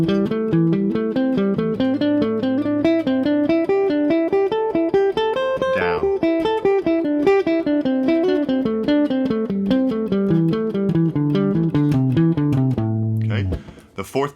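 A guitar runs through a pentatonic scale exercise in groups of four notes, each group starting a step higher, climbing and then descending in a steady, even rhythm, played alone and close up, with a brief pause near the end.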